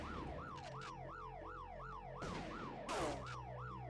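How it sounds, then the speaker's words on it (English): Police sirens wail in Grand Theft Auto, rising and falling in a fast repeating cycle while two short sharp bursts cut through near the end. "So there's just a bunch of police siren sounds, but there's no cops."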